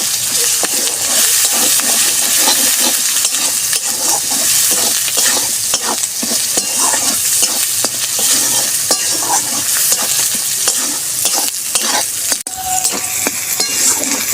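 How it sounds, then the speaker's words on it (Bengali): Spices with turmeric powder and salt fry in a pan with ginger and garlic, a loud steady sizzle running throughout with constant stirring and scraping, close and without talk. "এটা ভালো করে আমি ভাজবো।"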